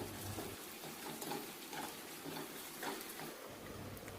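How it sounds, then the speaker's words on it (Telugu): Onion paste mixed with ginger garlic paste fries in a pan, giving a soft, even sizzle that stays faint and steady throughout with no voices. "ఈ ఉల్లిపాయ పేస్ట్ కొద్దిగా వేగిన తరువాత 1 స్పూన్ అల్లం వెల్లుల్లి పేస్ట్ని వేసుకుని పచ్చివాసన పోయే వరకు మరి కాసేపు బాగా వేగనివ్వాలి"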